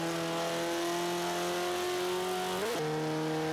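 A KTM X-Bow engine in Forza 5, fitted with all-wheel drive, drones loudly and steadily at high revs, its pitch sliding briefly as it shifts into fifth gear before settling into a slightly lower sustained tone.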